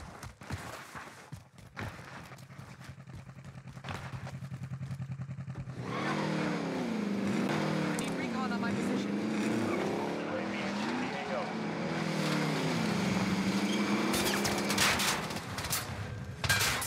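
A vehicle drives in Call of Duty Cold War Warzone, its engine revving and droning with tire noise and rising and falling pitch, mixed with game effects and a player's voice.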